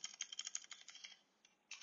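Brief run of computer keyboard typing, quick light keystrokes in a close, quiet burst followed by a pause and a final key press.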